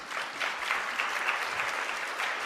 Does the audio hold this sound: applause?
yes